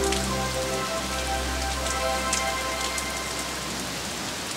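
Continuous rain hissing and pattering on a surface, soft and even, with a low hum and faint tonal background music underneath.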